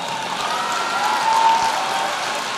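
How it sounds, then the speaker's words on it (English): Sustained applause from a large audience at a high school commencement ceremony, an even wash of clapping that holds steady throughout without voices on top. "You can applaud."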